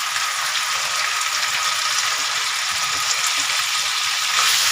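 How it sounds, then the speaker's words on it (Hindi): Finely chopped boneless chicken, cut like mince, fries with ginger and garlic in a pan, giving a steady, close sizzle that holds level throughout with no talking. "इसका कलर चेंज होने तक हम इसे भी 1 मिनट के लिए फ्राई कर लेंगे।"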